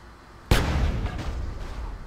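A sudden loud blast of gunfire erupts in Grand Theft Auto: San Andreas, a sharp boom after a quiet start followed by a rumbling, decaying roar of continued shooting.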